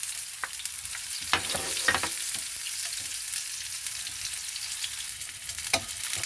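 Garlic and onion fry in a pan for ampalaya with eggs, a continuous close hiss of sizzling oil with occasional sharper crackles and stirring scrapes, no voices over it.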